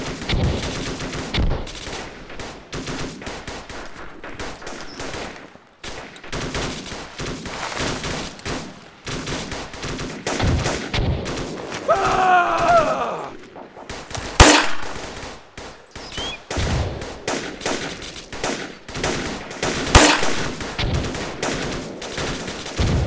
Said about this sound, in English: Those guys in the trench look like they're firing.